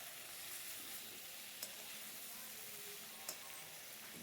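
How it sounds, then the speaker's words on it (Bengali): Mixed vegetables stir-fry with spices and green chillies, giving a faint, steady sizzle throughout with a couple of small ticks. "এবার মশলা দিয়ে সমস্ত সবজিটা কষবো।"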